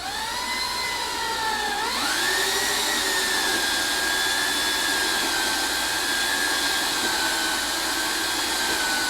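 A power mixer whirs steadily while stirring resin with pigment and dye, its motor pitch dipping briefly then rising and holding a constant loud drone throughout with no talking.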